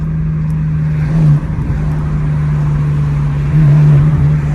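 Straight-piped BMW M4 exhaust with a loud, steady low drone that swells slightly in a couple of spots, close to the car and heard alone without talk.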